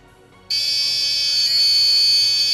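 Homemade battery-powered horn for scaring animals away from farms switches on abruptly and holds a loud, piercing, steady electronic buzzing tone, alone after a quiet lead-in.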